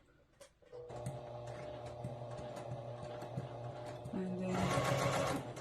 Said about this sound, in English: continue stitching at number 2 stitch length, and when I get to the end, I'll back stitch again.